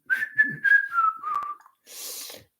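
A short whistled melody, a few sliding notes close up, followed by a brief breathy hiss.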